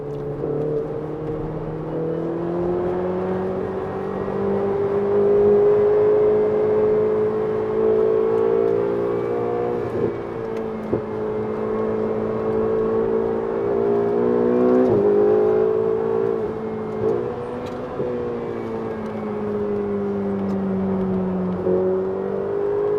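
A Ferrari 488 GTB engine drones loudly and continuously while driven at the Inje track using the shift paddles, its pitch climbing and dipping with several quick gear changes, heard steadily without talk.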